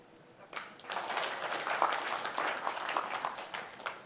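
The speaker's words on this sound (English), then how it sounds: "I'd like you to clap." An audience at a team-management talk breaks into clapping, starting after a quiet moment and building into a moderate, steady round of applause, fairly distant and not very loud.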